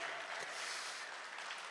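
Applause from a conference audience for a panel at a Thiel Fellow reunion, a steady dense wash of clapping for just under two seconds.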